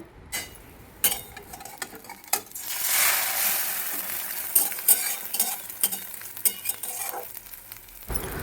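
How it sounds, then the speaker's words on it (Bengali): An egg omelette with onion fries in a pan, its steady sizzle rising and falling alongside the scrape of a utensil and a few clinks against the pan. No one speaks. "এই জন্যই আমি ডিমের অমলেট করছি পেঁয়াজ দিয়ে করছি"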